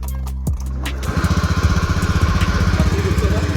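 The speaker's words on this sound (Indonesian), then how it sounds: "Terlihat pada saat grendel pintu tersebut digeser ke kanan, seperti saat mengunci pintu, terdengar motor tersebut pun menyala." A matic motorcycle engine, started by sliding a door bolt, sputters to life after a few clicks and settles into a steady, loud, close idle with a regular putting pulse.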